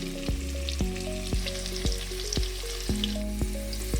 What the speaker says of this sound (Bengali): আলুগুলোকে মিডিয়াম ফ্লেমে হালকা লালচে করে ভেজে নিতে হবে।